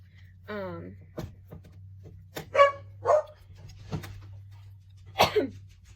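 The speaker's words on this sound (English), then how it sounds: "ignore my dogs. They're letting me know that someone is in the driveway." Dogs barking at someone in the driveway, a whining yelp followed by several sharp, separate barks at irregular intervals over a low steady indoor hum, fairly close.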